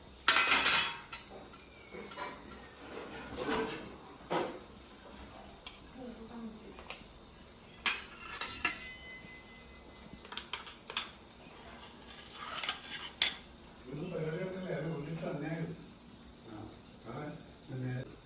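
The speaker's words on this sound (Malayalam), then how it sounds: "അപ്പൊ നമ്മുടെ പുട്ടൊക്കെ റെഡിയായി ഇനി പുട്ട് നമുക്ക് ഇതിലേക്ക് തട്ടി കൊടുക്കാം" Steamed puttu being knocked out of its steamer into a dish in a home kitchen, with several sharp metallic taps and clatters spaced through the clip and people talking in between.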